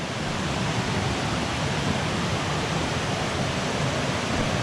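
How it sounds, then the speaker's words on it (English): Steady rushing water from a small waterfall, a continuous even hiss with no voices. "there's a little waterfall up here"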